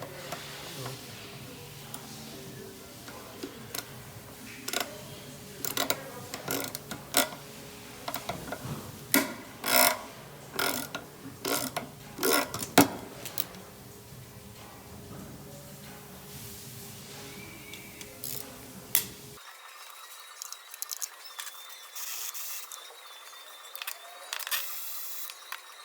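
A ratchet clicks in bursts while loosening transfer case bolts on a Genesis, quick metallic ratcheting strokes with short pauses between, close and fairly quiet over a faint background hum.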